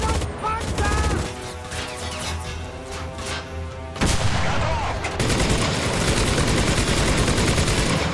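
Gunfire in the Enlisted video game during a fight for a bridge, dense overlapping rifle and machine-gun bursts, loud and close throughout, swelling into heavier volleys in the second half.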